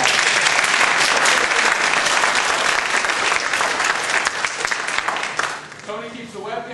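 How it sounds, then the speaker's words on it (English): A talk audience gives a big round of applause in a room, dense steady clapping near and loud that thins toward the end as a voice begins speaking over it. "Let's give her a big round of applause."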